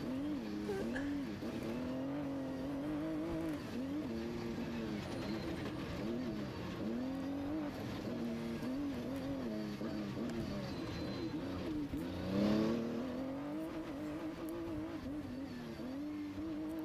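Trophy Truck engine at the SCORE Baja 500 qualifier, a steady engine drone with rising and falling revs throughout, plus a brief louder surge near the end, heard at a moderate distance with no talk.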